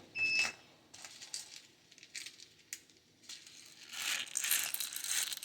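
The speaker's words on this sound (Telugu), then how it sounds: "మిరియాలు వేస్తున్నాను" Dry peppercorns dropped into a steel mixer jar while making Tirumala-style vada batter with hing, giving a scatter of small light rattles and clicks in a few bursts, the densest near the end.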